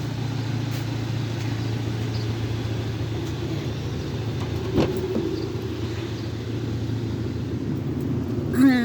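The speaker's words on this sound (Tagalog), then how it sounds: "Ito na yung sasakyan. Service ko everyday." Steady low rumble of a daily service car's engine idling and running, a constant drone with a few faint knocks and thumps on top.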